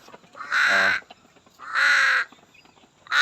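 A crow caws loudly three times in slow succession, each call harsh and drawn out, close by and alone with faint background noise between.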